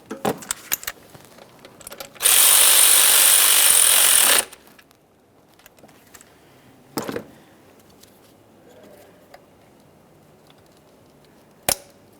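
A power tool buzzes in one loud two-second burst while driving 10mm mounting bolts into the intake plenum of a 2012-2018 Nissan Maxima 3.5L V6, surrounded by quieter clinks and tool handling sounds.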